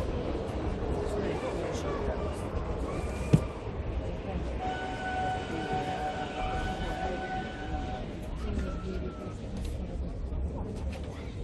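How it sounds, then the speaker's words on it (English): A train passes in Budapest with a steady low roar, sustained horn-like tones sounding over it, and a sharp bang partway through. "Oh, there's the express train."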